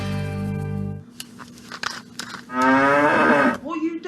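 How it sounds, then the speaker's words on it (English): A cow moos loudly in a radio advert for a fridge, with a long low bellow up front followed by clattering and crinkling sounds and a second drawn-out moo near the end. "I can hear it mooing."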